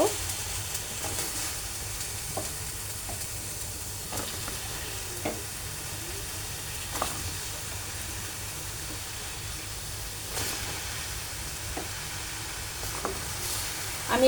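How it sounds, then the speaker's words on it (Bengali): Pointed gourds sizzling in a wok on a gas stove, a steady soft frying crackle throughout with occasional sharper pops and stirring clicks, no talking. "গ্যাসের চুলায় একটা কড়াই বসিয়ে দিয়েছি আমি এখন পটলগুলো দিয়ে দেব"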